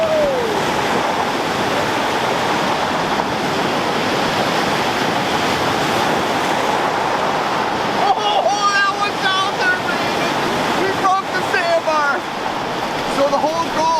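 Waves breaking on the Lake Superior shore during a winter storm make a loud, continuous roaring wash of surf with wind, close by, with a voice and faint chirps rising over it near the end.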